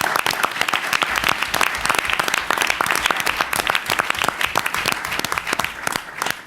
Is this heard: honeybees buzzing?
no